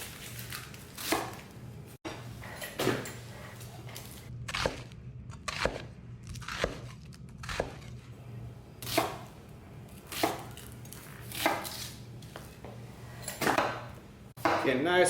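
A knife chops a yellow sweet onion into large chunks on a board, with sharp irregular thuds and crunches spaced a second or so apart at close range, and a voice speaks between the cuts.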